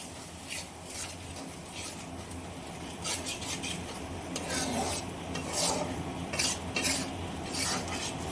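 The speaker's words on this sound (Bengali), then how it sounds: "দইটা খুব ভালোভাবে সমস্ত মশলার সঙ্গে মিশিয়ে নেব।" Yogurt being stirred into spice masala in a pan over low heat: rhythmic scraping and rubbing strokes of a spoon against the pan over a faint sizzle, close and moderately soft, with no voices.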